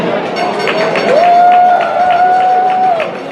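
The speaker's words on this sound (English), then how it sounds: "Can we have a huge round of applause for Antoon?" Gala dinner guests applaud a performer, a dense wash of clapping from a large room heard under a steady sustained tone, moderately loud and continuous.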